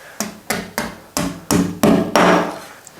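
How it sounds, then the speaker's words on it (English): A small hammer taps Duo Power wall plugs into freshly drilled holes in a wall for oak floating shelves, giving seven sharp, evenly spaced knocks that grow slightly louder toward the end; close and alone. "Now you just want a little hammer and 3 of the Duo Powers."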